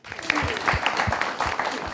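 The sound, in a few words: applause for students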